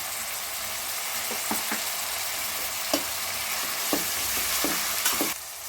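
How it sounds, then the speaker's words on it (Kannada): Tomatoes with turmeric powder fry in a pan for chicken biryani, a continuous close sizzle broken by several sharp scraping stirs of a spoon against the pan. "ಚೆನ್ನಾಗೆಲ್ಲ ಫ್ರೈ ಮಾಡ್ಕೊಳ್ಳೋಣ. ಬೇಯಬೇಕು ಟೊಮೆಟೊ ಎಲ್ಲ ಚೆನ್ನಾಗಿ."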